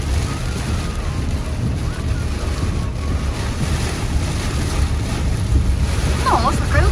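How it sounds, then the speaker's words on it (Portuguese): Strong wind roars continuously through swaying trees, a loud broadband rush with microphone buffeting and a faint voice or chirp near the end. "Olha como o vento tá forte"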